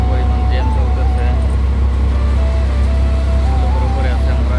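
Heavy, jammed road traffic rumbles on and below a U-loop flyover on a rainy day, a loud, constant low engine drone with passing vehicles and horn-like tones over it.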